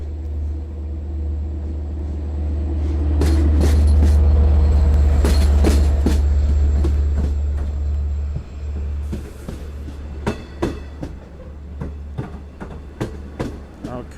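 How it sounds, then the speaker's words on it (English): Long Island Rail Road train 2704, led by DE30AC locomotive 417 hauling four Kawasaki C3 bilevel cars, arrives at Speonk station: a loud, close diesel rumble builds and fades, then wheels click and clank rhythmically over rail joints. "Welcome, Long Island Railroad train 2704, Babylon to Montauk."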